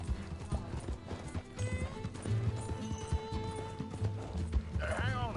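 Hoofbeats of a horse galloping in the Western video game Red Dead Redemption, a steady clip-clop rhythm running throughout with a snort or whinny near the end, under game music and a voice.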